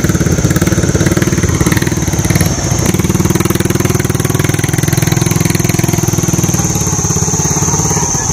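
Engine of a truck hauling melaleuca timber at a road construction site in the Mekong countryside, a steady loud chugging idle with an even mechanical pulse, close by and alone, with a brief knock partway through.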